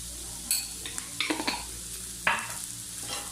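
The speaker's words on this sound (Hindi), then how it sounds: "इसे बस 1-2 मिनट फ्राई करना है कि बस इसका थोड़ा सा कलर चेंज हो जाए, पिंक थोड़ा सा प्याज हो जाए बस।" Onions fry in a pan with salt and black pepper, a soft steady sizzle broken by a few scraping stirs of a spoon, close by and fairly quiet, with no voices.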